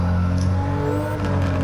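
Toyota GR Corolla accelerating hard on a race track, a loud, close engine pulling with rising harmonic whine and a brief shift-like dip near the end, no talk.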